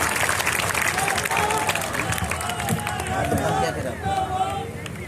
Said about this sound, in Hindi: आप लोगों से भी चाहूंगा एक बार तालियां बजाकर इनके इस अच्छे कार्य का एक बार अभिनंदन करें।